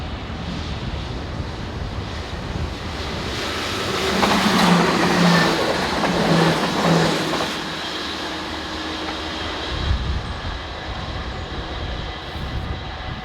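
Train number 2957, a northbound service for Dordrecht, passes near a level crossing: a broad rumble swells over several seconds to a loud peak with a few steady tones, then eases back into a quieter hum.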